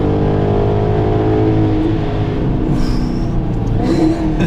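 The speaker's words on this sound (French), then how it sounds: "Petit claquement au passage de vitesse." Maserati GranTurismo Sport engine revving hard with a deep, steady roar from inside the car and small crackles at the gear shifts.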